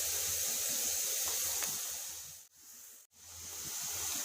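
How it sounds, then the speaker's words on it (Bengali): Blended onion paste sizzles in hot oil in a pan for chicken roast, a steady bright hiss that briefly cuts out twice. "এবার এই তেলের মধ্যে পেঁয়াজ ব্লেন্ড করে নিয়েছিলাম, সেটা দিয়ে দিচ্ছি।"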